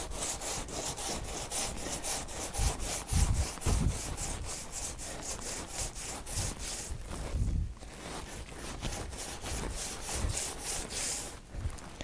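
A fiberglass cast for a custom AFO being smoothed down by hand, a rapid back-and-forth rasping scrape repeating steadily at close range.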